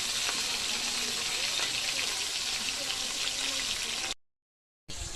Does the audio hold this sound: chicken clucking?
no